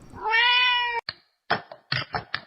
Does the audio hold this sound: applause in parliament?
no